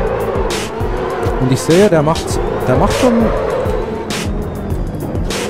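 A drifting car in the Assetto Corsa racing game slides with loud, wavering tire squeal and a steady engine roar, while someone talks over the driving.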